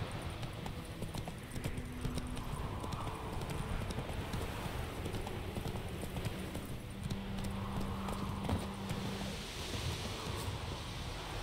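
Horse hooves clip-clop in a steady gallop across The Witcher 3 game world, with a low ambient wash of wind and surf beneath and a faint voice briefly on top.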